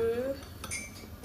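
Spoonfuls of flaxseed going into a pot of Sylheti khatta, a few light metallic clinks and scrapes of a spoon against the pot, close and quiet, with a brief voice at the start.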